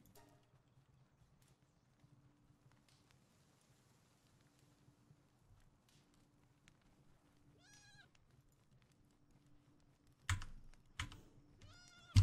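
Sheep in the Palworld video game, a short bleat sounding once near the middle and again toward the end over faint clicking and a low hum, quiet overall apart from a few louder knocks.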